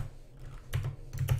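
Keys clatter on a computer keyboard in two quick bursts of typing, close and crisp, with no one speaking.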